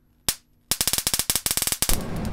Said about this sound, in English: let's try it with the taser